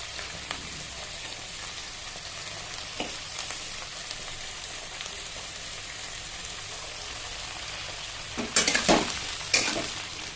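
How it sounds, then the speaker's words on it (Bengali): Onion stalks fry in a pan with a steady, close sizzle. Several sharp scraping stirs come near the end. "এরপর দেবো পেঁয়াজ কুলিটাকে একটু ভেজে নেব"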